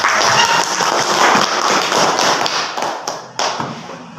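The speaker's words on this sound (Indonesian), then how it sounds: "kita beri aplaus untuk" Classroom applause for a student, a steady burst of many hands clapping close by that thins out toward the end.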